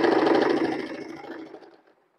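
A sewing machine runs steadily while stitching an undershirt slip for a chicken kari organza dress, then slows and stops within about two seconds.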